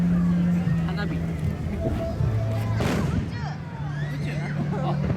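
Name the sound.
fireworks exploding at Awaji Island fireworks festival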